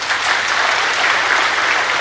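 A crowd at a Brahma Kumaris spiritual gathering claps continuously, dense loud applause filling the whole moment without a break.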